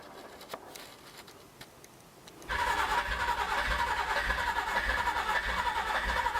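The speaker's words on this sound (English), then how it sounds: "Cold start of a Icarus 260" An old Icarus 260 bus diesel engine cold starts: quiet cranking clatter for a couple of seconds, then it catches and settles into a loud, rough, steady idle nearby.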